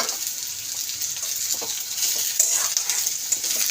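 Eggplant and potato pieces sizzle in hot oil with onion, a steady crackling hiss with occasional stirring scrapes, close and moderately loud.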